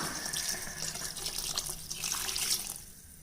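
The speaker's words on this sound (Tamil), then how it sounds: "குழம்புக்கு தேவையான தண்ணி கலந்துக்கலாம்" Water pours steadily into a curry in a continuous splashing stream, fairly close, trailing off near the end.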